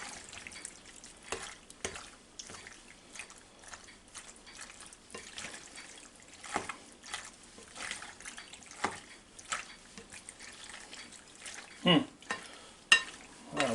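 Penne pasta stirred through a roasted garlic alfredo sauce in a Ninja Foodi Deluxe, with soft wet scraping and squelching, gentle sizzle and a few sharper spoon knocks, close and quiet.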